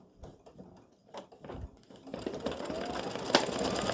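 Embroidery sewing machine stitching a freestanding lace snowman's head in white thread. A few quiet clicks and knocks come first, then a close, steady mechanical whirr starts and keeps running.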